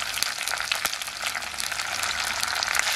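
Drumstick, tomato and green chili crackle and sizzle in a pan of oil for a Kerala fish curry, a steady dense fry with occasional soft stirring scrapes, close and alone without talk.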